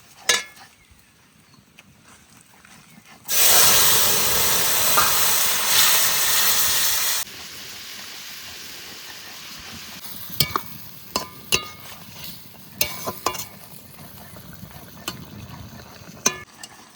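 Garlic and vegetables frying in oil on a home stove, a loud burst of sizzling hiss as the food hits the pan, then a steadier quieter sizzle punctuated by clanking stirs of a utensil.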